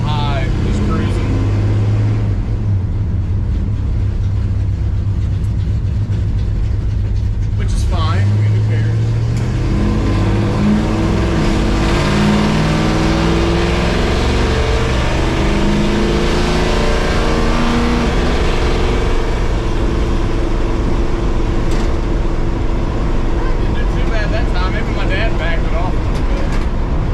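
A 1969 Plymouth Barracuda with a Hughes Whiplash 360 engine and kickdown transmission drones steadily while cruising, a loud continuous low rumble with a brief rise around eight seconds, under a voice talking.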